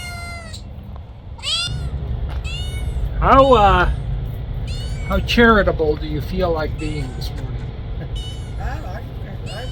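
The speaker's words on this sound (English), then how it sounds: "Sound like a kitten." A kitten meows repeatedly in high, wavering cries, close and fairly loud, while a person speaks briefly over a low rumble.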